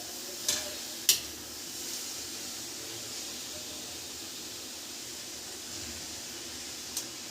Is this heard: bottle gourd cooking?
yes